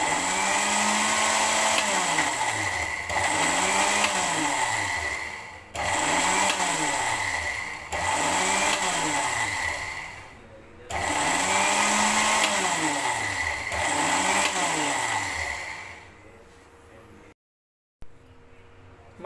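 An electric grinder whirs through fish fry masala spices in loud repeated bursts, each revving up and winding down, about six pulses before it stops.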